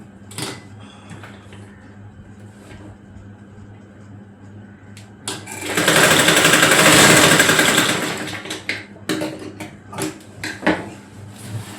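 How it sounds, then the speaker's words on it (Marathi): A sewing machine stitches the belt onto a child's frock with a few short taps and clicks, then one loud sustained whirring run of about three seconds, followed by more scattered clicks and short bursts. "एक झाल्या की आपण दुसरा पण तसाच प्रमाणे शिवून घेऊया"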